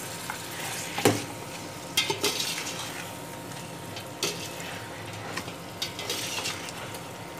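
Spices stirred in a pot for beef yakhni pulao, a steady sizzle with repeated clinks and scrapes of a spoon against the metal at an irregular rhythm.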